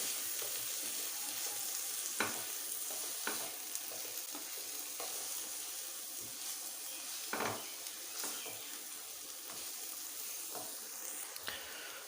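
Spices with crushed red chilli fry for aloo gobi, giving a steady soft sizzle with occasional stirring scrapes and taps spread across the whole stretch.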